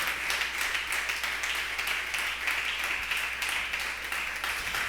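A congregation at a church service claps and applauds in a dense, steady burst, rhythmic hand claps filling the room for several seconds.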